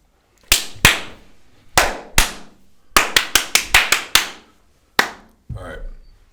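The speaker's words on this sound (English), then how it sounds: "I'm just going to do a little loud clap." Sharp, loud hand claps ring out close by, a few spaced single claps, then a quick burst of several in a row, then one more.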